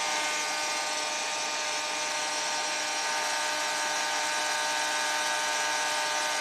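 A hair dryer blows on fresh decoupage on a wooden book box, giving a steady, close, continuous whirring hiss with no talking.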